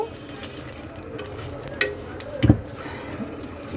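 Panch phoron spices frying in hot oil with grated ginger and bay leaf, a soft continuous sizzle with scattered light scrapes and one sharper clatter of a utensil, close and fairly quiet, no talking.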